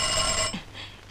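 An electric doorbell rings steadily for about half a second, then cuts off, leaving a quiet room with faint background noise, in a 1977 Iranian film.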